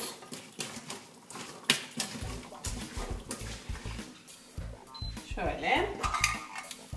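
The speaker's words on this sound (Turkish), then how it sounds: "Hepsini karıştırıyoruz" A spoon stirs carrot and potato soup ingredients in a pot, giving repeated clinking and scraping strokes in an irregular rhythm, fairly close, with kitchen clatter around it.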